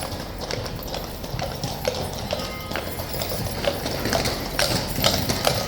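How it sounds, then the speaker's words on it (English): Horses of the King's Guard clip-clopping on hard ground, a steady run of sharp hoof strikes from several animals moving together, fairly close and continuous with faint crowd murmur behind. "Very cloppy this morning."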